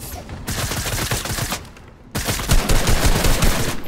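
Rapid video game gunfire in a deathrun match, bursts of loud, dense automatic shots in quick succession, broken by a brief lull before firing resumes even harder.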